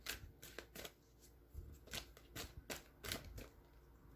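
Tarot cards are shuffled by hand in a quiet room, a series of soft, crisp riffling bursts at an uneven pace, close and faint, with no voices.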